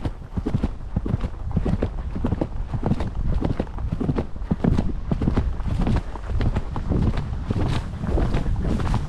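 A horse canters along a wooded trail, its hooves thudding in a steady, rapid rhythm close by, with wind rushing across the microphone throughout.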